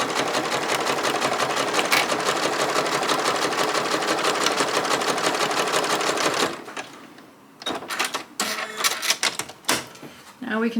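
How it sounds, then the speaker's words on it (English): A sewing machine stitches a quarter-inch quilt seam on a Black Diamonds quilt kit with a steady, rapid mechanical whir for about six seconds, then stops and gives way to quieter handling noises and brief bursts. "So let's sew this first side."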